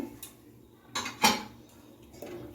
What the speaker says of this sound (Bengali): এখনও অনবরত নেড়ে চেড়ে পায়েসটা আমি রান্না করে নেবো